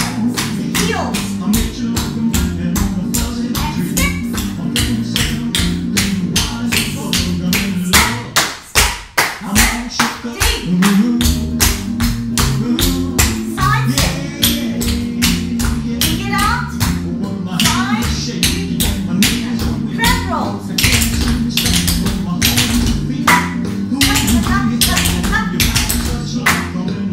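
Rapid tap-dance heel taps from a class drilling tap steps, loud and dense with fast repeated strikes over backing music, one brief pause near the middle before the taps resume.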